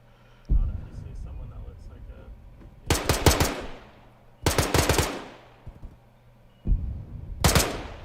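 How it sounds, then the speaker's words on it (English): A mounted DShK heavy machine gun on a building's first floor in a video game fires three loud rapid bursts of several rounds each, with quiet gaps between them and echoing tails after each burst. "There's a mounted MG in the first floor. Who puts a Dishka on the first?"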